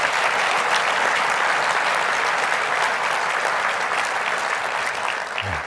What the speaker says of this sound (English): Please help me give Angie another round of applause for being a great president this year.